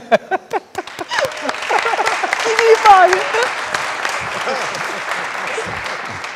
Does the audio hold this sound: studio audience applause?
yes